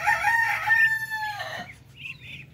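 Young native Pinoy chickens, about two months old, crow in a thin rising call and then cluck softly, close by and alone with no talk.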